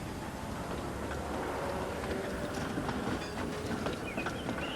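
Continuous rumbling of a train starting away in the Trainz video game, with faint clacking and rattling, steady and fairly loud throughout, no voices.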